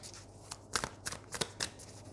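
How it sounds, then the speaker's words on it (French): Tarot cards being shuffled and drawn, a soft papery riffle followed by four or five quick separate slaps and flicks of cards, close and quiet with no talking. "on prend également une carte du tarot"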